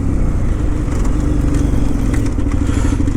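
A KTM 990 Adventure motorcycle rides off-road across autumn fields and forest tracks, its engine a loud, steady, throbbing rumble close by, with faint clatter from the rough ground.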